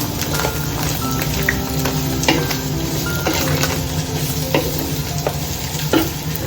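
Bitter gourd and curry leaves sauté in a hot pan for pavakka theeyal, giving a steady close sizzle with occasional scraping stir strokes throughout.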